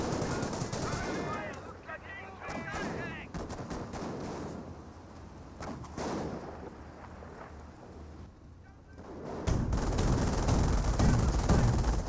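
Machine-gun bursts and rifle fire rattle through a World War II battle in Company of Heroes, dense and loud with explosions, under a commentator's steady talk, swelling into heavier rumbling near the end.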